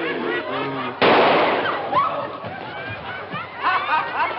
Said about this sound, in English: He likes to shoot, no?